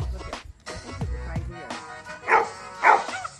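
A dog barks and yips in short bursts outdoors during a frisbee lesson with a golden retriever, black Labrador and goldador puppy, several sharp barks spread across the moment, some loud and close.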